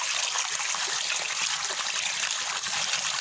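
Water runs in a steady, close, splashing flow while beef tripe is washed, with no talking.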